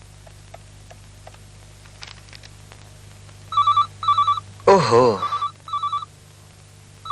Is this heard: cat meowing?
no